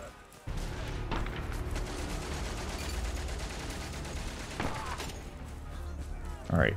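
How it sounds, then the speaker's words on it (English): In the Valiant Hearts: The Great War video game, sustained machine gun fire rattles continuously in a dense battlefield barrage, with a few sharper impacts standing out and a loud crack near the end. "All right, we got another machine gun."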